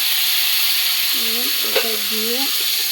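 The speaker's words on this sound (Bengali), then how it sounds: "এইভাবে কিছু সময় নাড়াচাড়া করবো" Cumin and tomato paste fry loudly in oil in a pan, giving a steady close-up sizzle with a brief faint murmur partway through.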